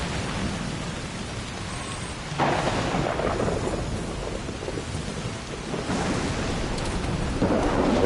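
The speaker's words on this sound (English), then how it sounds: "There's another storm." A thunderstorm in the video game Death Stranding: steady heavy rain hisses throughout while deep rolls of thunder swell and rumble in several waves, with no voices.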